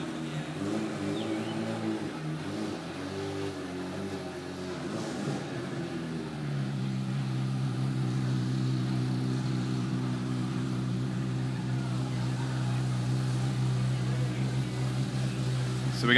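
A 1962 Facel II drives onto the stage at the Bonhams Quail auction. A low engine drone swells after a few seconds and stays steady and prominent, with an announcer's voice over it.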